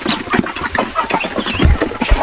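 Heritage chickens clucking around their nesting area on a small farm, a busy close cluster of overlapping clucks and short calls, fairly loud, with no talking.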